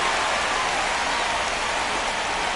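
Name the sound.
rain falling during a baseball game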